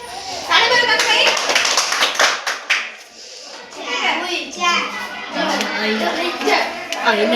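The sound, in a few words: children clapping hands while counting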